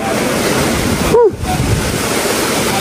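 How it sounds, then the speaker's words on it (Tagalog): Strong, gusting wind buffets the microphone in a continuous roaring rush during a rescue in stormy, wet conditions. A brief drop in the noise occurs midway, and a faint voice-like sweep is barely present. "Sobrang lakas ng hangin."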